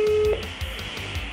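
A touch-tone telephone being dialed, with a steady tone followed by a quick series of short keypad beeps, close and fairly loud over a faint background.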